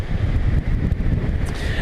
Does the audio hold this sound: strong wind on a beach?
yes